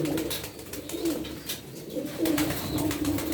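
Miski pigeons in a loft give soft, low, repeated coos that carry on steadily over a wash of background noise, with no talk heard.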